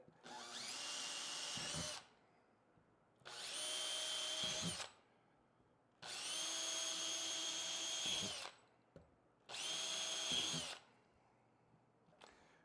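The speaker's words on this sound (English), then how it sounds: "Next step is we're going to drill the holes with our 3/16 drill bit." A power drill with a 3/16-inch bit whining in four separate bursts of about two seconds each as it drills holes in motorcycle hardbags, with short quiet pauses between, close by.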